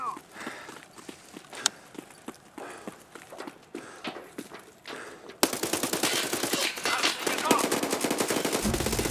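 Rapid gunfire from a Call of Duty match, sparse sharp shots at first and then a dense, loud, continuous burst of rattling fire, with footstep-like clatter in between.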